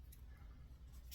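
Scissors snip through crochet yarn a couple of times, quick close cuts near the end of a brief, quiet stretch with low background hum.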